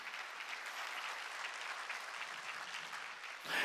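Sustained applause from a church congregation at a Wednesday worship service, steady and fairly distant, filling the room for several seconds before swelling louder at the very end.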